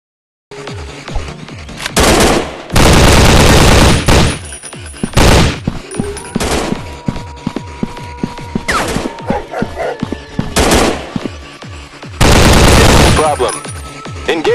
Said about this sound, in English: Cover me, I'm reloading.